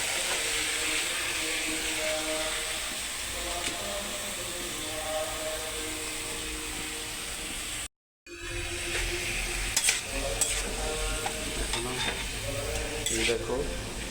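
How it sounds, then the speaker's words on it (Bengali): Tomatoes for chutney stirred and fried in a pan, a steady sizzle with scraping stir strokes throughout and a brief dropout midway, voices talking faintly in the background. "চাটনি টমেটো দিয়ে দিচ্ছি"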